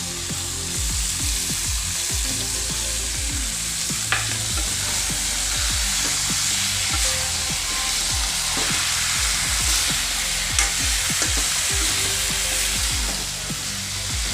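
Chicken with radish and carrots fries in a pan while being stirred, giving a constant sizzle broken by repeated scraping strokes and a few light knocks of the utensil; no talking.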